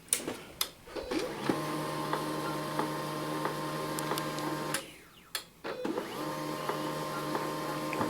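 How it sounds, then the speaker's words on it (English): An HP LaserJet 1022 laser printer, unused for six months, powers up with a few clicks and clunks, then settles into a steady mechanical whir with a brief pause and restart midway, close and loud. "Now it's going to do a quick startup test."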